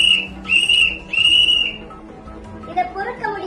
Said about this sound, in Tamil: தமிழகமெங்கும் விசில் சத்தம் ஒலித்து வருகிறது